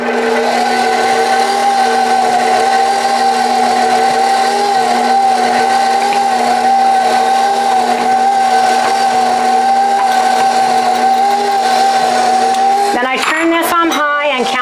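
An electric hand beater whirs steadily on low speed, driving a small mini whisk attachment to whip ingredients for a keto protein-sparing meal, a continuous close mechanical hum that runs unbroken before stopping with a few clunks at the end.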